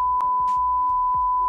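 A steady censor beep tone bleeps out a spoken answer, running continuously through the short clip over faint, muffled clipped speech fragments.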